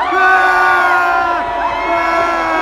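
A large festival crowd cheers and whoops loudly and continuously for Eminem at Reading Festival, a dense sustained roar of many voices with pitched shouts rising above it throughout.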